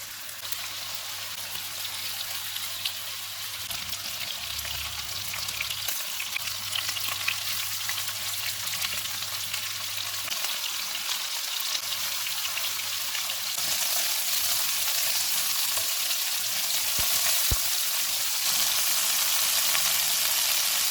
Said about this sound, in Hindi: ऑयल गर्म हो गया, इसमें मैरिनेटेड चिकन रखेंगे। चूल्हे को मीडियम रखेंगे और इसको 7 से 8 मिनट तक भूनेंगे।